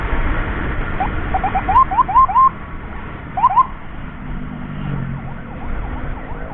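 An emergency ambulance siren wails in short rising yelps, moderately distant, over a rumbling road and traffic background with no talk.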